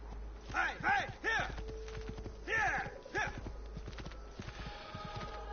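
Horse hooves in the video game Assassin's Creed, a quick run of clip-clop beats in uneven bursts with brief gaps, fairly close and clear, with a soft whinny-like tone in the middle.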